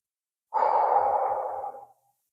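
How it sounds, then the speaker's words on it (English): A single long, steady exhale through the mouth during a stress-relief breathing exercise, close and clear, lasting about a second and a half before tapering off into silence. "And then breathe out through your mouth, a longer one."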